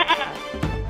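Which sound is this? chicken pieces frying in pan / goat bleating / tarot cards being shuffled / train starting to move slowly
goat bleating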